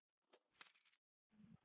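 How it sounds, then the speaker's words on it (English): Keys are picked up, giving a short bright metallic jingle and clatter, followed after a pause by a soft low rustle or thud, close and quiet with no talking. "Let me get my keys."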